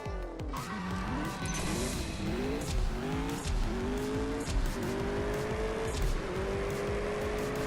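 A race car in CSR2 Racing revs hard through rising engine whine and gear shifts, tires squealing as it accelerates, loud and close throughout without pause.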